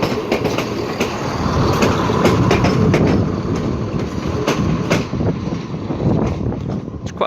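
A two-car Class 170 West Midlands Trains unit rumbles through Shrewsbury station over a river bridge, a loud continuous engine and wheel roar with rhythmic clicks from the rails, close by, with wind and faint talk.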